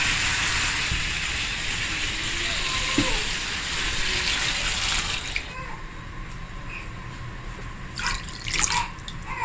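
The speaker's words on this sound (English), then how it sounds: "Now you put the water." Water splashes and trickles steadily into a pot of chicken, then tapers off into a few louder drips and clinks near the end.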